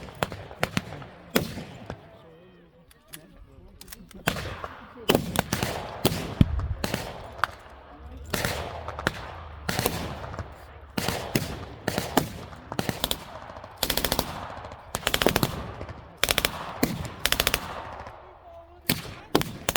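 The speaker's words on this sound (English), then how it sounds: "The huge blasts, along with the constant sound of gunfire and shouting, make the scene incredibly realistic." Machine gun fire at a World War II battle reenactment in Nyvang, Denmark: dense, loud bursts of automatic fire and single shots crackling almost nonstop, with faint shouting mixed in.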